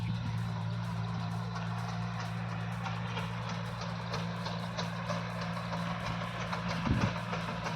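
A Kubota tractor's engine runs steadily in a soybean field, a low, even idling drone with faint mechanical ticking throughout and a brief louder thump near the end.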